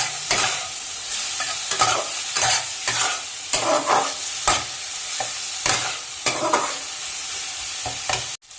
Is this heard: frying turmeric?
yes